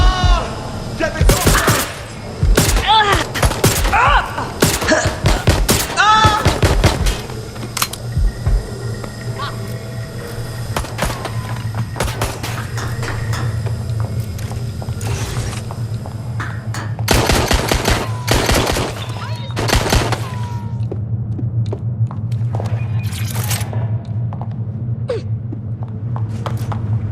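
Gunfire in the video game Watch Dogs Legion, with bursts of rapid shots clustered early and again later over a steady low background hum, and voices talking in between.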